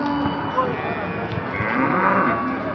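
Simmental cattle at a busy livestock market moo in a low drawn-out call, heard close against a steady crowd murmur and market bustle.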